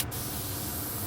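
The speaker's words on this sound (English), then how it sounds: "Again, spraying at about 20 pounds." An early generation Iwata Micron airbrush sprays black paint at about 20 psi, making a steady close hiss of air that runs unbroken from start to finish.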